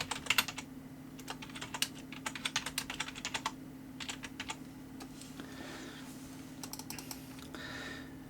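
Fingers tapping on a computer keyboard in quick irregular bursts, close and clear, over a steady low electrical hum, with no voices.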